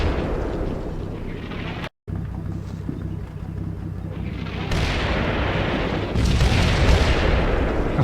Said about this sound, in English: The artillery fire is actually getting stronger as more batteries are ranged in, because I just told all the batteries to fire at this.